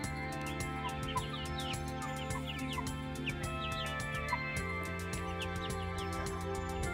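Meat chickens about seven weeks old call and cluck outdoors in the sunshine, a steady chorus of short chirps and calls over constant low farmyard hum, fairly close and continuous throughout.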